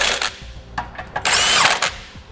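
A power tool with a 3/4 inch socket tightens trailer hitch bolts on a 2012 Honda Odyssey in short whirring bursts, close and fairly loud, with clanks between pulls.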